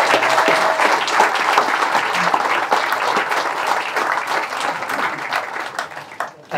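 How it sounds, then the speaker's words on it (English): Audience applause after a talk on pangolin rescue and release, with brisk, dense clapping from a room of listeners that holds strong, then thins and fades toward the end. "a big round of applause to Debbie and Emma for a fantastic presentat"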